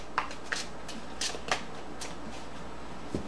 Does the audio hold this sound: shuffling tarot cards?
yes